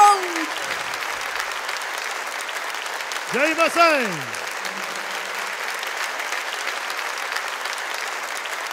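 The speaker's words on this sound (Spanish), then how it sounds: "El aplauso de nuevo." Concert crowd applauding at an outdoor jazz festival show, a steady wash of clapping throughout, briefly overlaid by a voice calling out over the audience midway.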